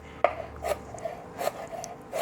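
A knife cuts ridge gourd (padwal) into thick pieces on a board, giving four or five distinct, close chopping thuds spaced unevenly over a quiet background.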